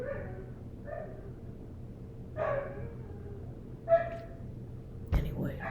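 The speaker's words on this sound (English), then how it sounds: "This dog whines and cries at all hours of the day and night." A pit bull next door whines and barks, several short high yelps and whimpers spaced apart at moderate distance over a steady low hum, ending in a sharper burst.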